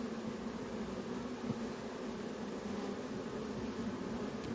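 Honeybees buzzing around a beehive, a faint, steady hum of many wings with a low drone throughout, no voices.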